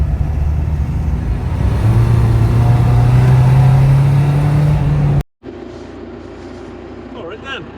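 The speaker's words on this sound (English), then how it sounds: "Third gear and it just steps the back end out." A diesel PD130-engined, rear-wheel-drive Ford Capri pulls hard in third gear on a dark road, its engine drone steady and loud with a rising tone for about five seconds before cutting off abruptly, leaving quieter road noise.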